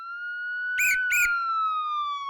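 Police car sirens in an old-time audio drama hold a steady, loud wailing tone that drifts slightly in pitch for the whole stretch, broken by two brief bursts of other noise partway through.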